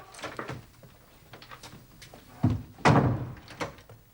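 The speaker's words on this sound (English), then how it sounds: "And shut the door." A door being shut indoors in a period detective drama, a couple of heavy thunks and a solid slam amid footsteps and shuffling, fairly close and alone without talk.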